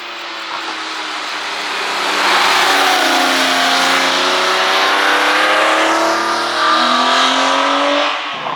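A Porsche 964 fitted with a GT3 RS engine drives past on an Alpine road, its loud flat-six engine rising and revving steadily before easing slightly, heard alone without talk.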